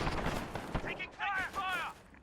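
Gunfire in the video game Modern Warfare 2019, a quick burst of sharp shots at the start followed by whizzing, warbling game effects, with a voice talking over it.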